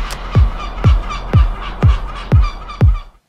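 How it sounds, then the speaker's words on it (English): A large bird, honking like a goose, attacks a drone in flight over a national park in Baja, Mexico, giving six loud, evenly spaced honks about half a second apart, close and alone. "as I was flying, the bird started to attack my drone"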